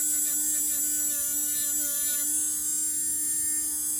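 A Dremel rotary tool runs on toenails with a steady, close, high-pitched motor whine that hums evenly throughout with no pauses.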